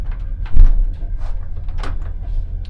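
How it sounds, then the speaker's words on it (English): A toilet door on a moving passenger train between Odessa and Chisinau is pulled shut and locked with a single firm clunk, followed by low rumbling train noise with no talk. "lock the door."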